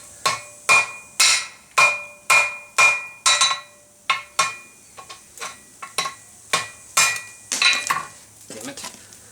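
A blacksmith hammers heated stock on an anvil while necking it down for a barbarian belt buckle, giving a steady run of sharp, ringing metallic blows, about a dozen or more evenly spaced and close, with no talk.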